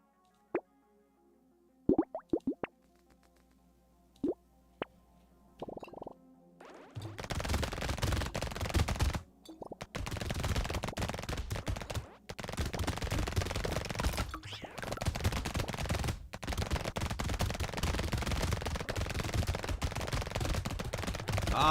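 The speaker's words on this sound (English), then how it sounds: "They're shooting at me now." Rapid, dense shooting in the arena shooter Brotato begins after a few sparse pops and plops, then runs as loud, continuous bursts with brief gaps.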